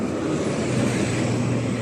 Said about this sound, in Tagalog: Maingay na naman po ang sasakyan.